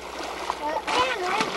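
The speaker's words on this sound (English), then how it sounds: "the boys are going to bail some of the water out of the back of the boat" Water splashes and sloshes in bursts as it is scooped and tossed while bailing out the back of a boat on Pelican Lake, with voices talking over it outdoors.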